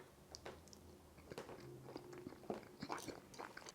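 Someone bites into and chews a caramelized Dutch meatball in sauce, with close, quiet crunching and soft chewing clicks in an uneven rhythm and no talking.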